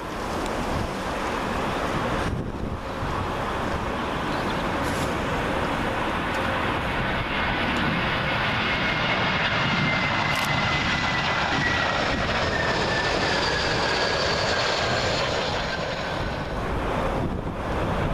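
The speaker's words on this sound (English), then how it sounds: "this Airbus A320 from British Airways is from Barcelona" A British Airways Airbus A320 arrives at Heathrow on runway 27L, its loud, steady jet roar sweeping close overhead with wind buffeting the microphone throughout.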